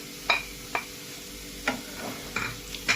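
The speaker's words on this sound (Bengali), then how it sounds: "একদম শুকনো না হওয়া পর্যন্ত সমানে নেড়ে যেতে হবে।" A spatula stirring besan mixed with dry fruits in a pan for laddu, giving a series of sharp, irregular scraping clicks over a faint sizzle, at moderate volume and with no speech.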